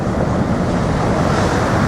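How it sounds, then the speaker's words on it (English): Ocean waves roll in and pound the shore at Thurso Harbour, a loud, continuous rushing wash with wind buffeting the microphone throughout. "watching the waves come rolling in and hammer the shore"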